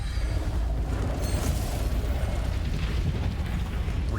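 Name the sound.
breach fire spell blast in Immortals of Aveum video game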